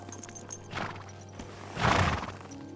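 A horse in the Kingdom Come video game breaks into a quick sprint, soft hoof thuds and a snort-like whoosh rising briefly, faint and short against quiet game ambience.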